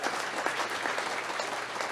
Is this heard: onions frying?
no